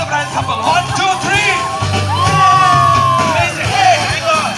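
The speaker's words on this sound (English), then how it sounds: "Can you cheer the bridal couple?" Wedding guests cheer and whoop for the bridal couple in a lively crowd, with shouts and voices mixing over a steady low hum.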